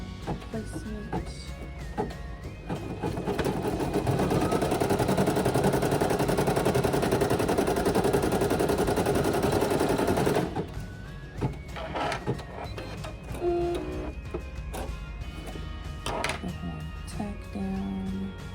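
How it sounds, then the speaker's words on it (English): Embroidery machine stitching a horn appliqué placement line on a shirt, a steady rapid mechanical whirr that runs for several seconds, then stops and gives way to scattered clicks and clatter. "now I will stitch out the horn"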